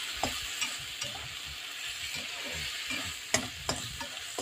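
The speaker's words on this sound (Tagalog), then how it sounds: "so kailangan na lang natin igisa-gisa" Boiled chicken with ginger and garlic sizzles as it is sautéed in a pan, a steady fry hiss broken by sharp scrapes and clinks of a stirring utensil, close by and with no talk.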